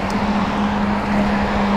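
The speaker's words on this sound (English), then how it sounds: "Those big trucks are loud." Heavy trucks roll past on a nearby road, a steady low engine drone and broadband road rumble with a strong hum, continuous and fairly loud across the short stretch, no voices.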